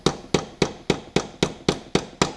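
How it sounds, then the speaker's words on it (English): Nine evenly spaced sharp metallic taps as a dirt bike brake pad is knocked into its caliper housing, close and crisp, arriving at a steady rhythm with no voices. "Just going to come around the other side here and give it a few taps in."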